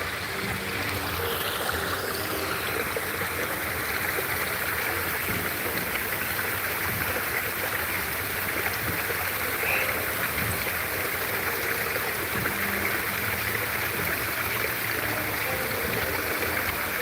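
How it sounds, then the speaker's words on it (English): Hot tub waterfalls pour in a steady, full broadband rush of running water, constant and fairly close for the whole stretch, with no voices over it. "Love my waterfalls."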